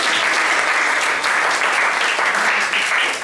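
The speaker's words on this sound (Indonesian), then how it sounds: "Oke, tepuk tangan." Classmates in a school classroom clap together after a group presentation, a sustained burst of many hands applauding at an even, fairly loud level without pause.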